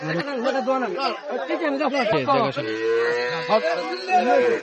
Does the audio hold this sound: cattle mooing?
yes